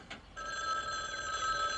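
A telephone bell rings steadily and loudly, a sustained electronic-sounding trill that starts after a brief moment and continues without pause, with no voices over it.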